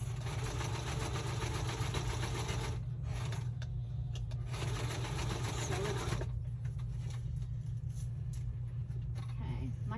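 A sewing machine running a straight stitch in bursts, with a steady mechanical hum and rapid needle clatter up close, pausing briefly between runs.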